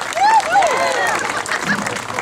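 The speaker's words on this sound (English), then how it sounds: "Round of applause for Woonsocket" Applause for Woonsocket from an audience at a rally over the Jolicoeur monument, a steady wash of clapping with a cheering voice rising over it near the start, then the crowd noise continuing evenly throughout.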